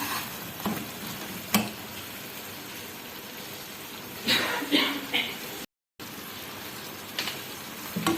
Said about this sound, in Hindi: अब सॉस में मिक्स डाल दें।